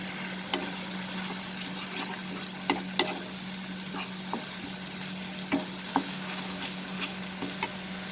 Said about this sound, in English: We'll cook over low flame for 2 more minutes.